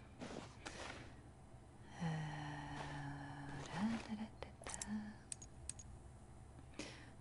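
Computer keyboard keys click in short, scattered bursts during a session of The Last of Us, mixed with quiet breaths and murmurs close to the microphone.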